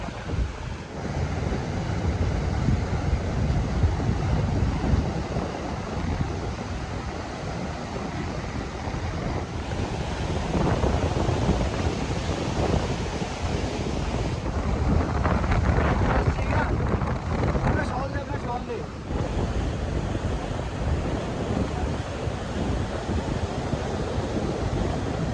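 Roaring Himalayan mountain river near Nanda Devi East base camp, a dense continuous rush of water loud and close throughout, mixed with wind buffeting the microphone.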